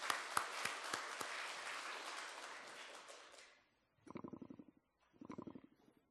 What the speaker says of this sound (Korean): 우리 한번 뜨겁게 박수하겠습니다.